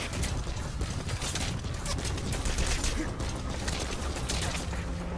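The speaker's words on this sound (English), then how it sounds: "they're shooting the target." Enemies in Metal Gear Solid V: The Phantom Pain fire on a target, making a dense, continuous rattle of gunfire with clanking mechanical noise, steady and fairly loud throughout.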